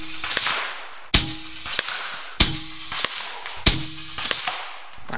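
A .457 caliber air sniper rifle fires at a target in three sharp, loud cracks spaced about 1.3 seconds apart, each followed by short clattering and mechanical clicks, with no speech.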